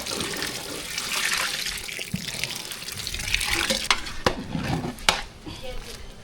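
Tamarind water pours into a cooking pan of sambar rice and gets stirred, with close splashing and running water, then sharper clinks and scrapes of a utensil against the pan.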